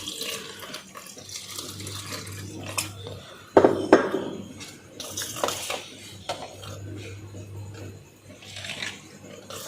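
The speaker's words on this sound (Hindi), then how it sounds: "आपने इसमें पानी डाल देना है ताकि ये थोड़ी सी पतली हो जाए" Water is poured into pakora batter for curry pakora and stirred in a bowl, a short close splash followed by irregular wet mixing and scraping with a low hum underneath.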